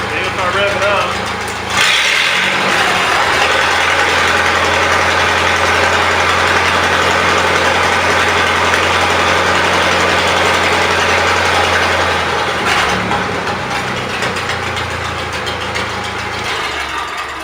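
A Miller Big 40 welder generator engine runs loud and steady, first starting or revving up and then holding a constant drone, while someone talks over it.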